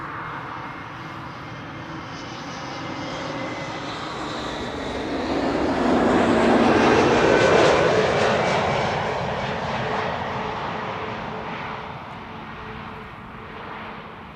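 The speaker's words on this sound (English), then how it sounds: "This is EasyJet arriving from London Stansted, an A320neo, flight 27858." An EasyJet Airbus A320neo jet arriving at Amsterdam Schiphol, its engine roar steadily rising to a loud peak mid-pass and then slowly fading, with no voices.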